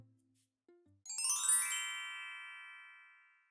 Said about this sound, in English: Please stop ringing the doorbell over and over.